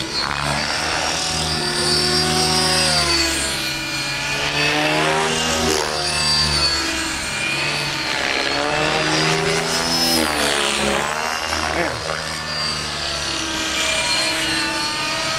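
Loud, close whine of a large electric RC helicopter's small rotor blades spinning fast, pitch rising and falling in sweeping waves as the helicopter maneuvers, continuous throughout.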